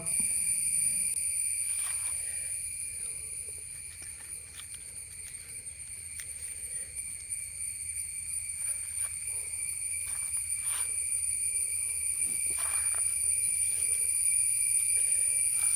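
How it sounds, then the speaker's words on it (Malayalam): A steady, shrill high-pitched insect chorus drones continuously throughout, like crickets chirping nonstop at night, with faint scattered ticks beneath. "ചീവീടുകളുടെ കരച്ചിൽ കേട്ടോ"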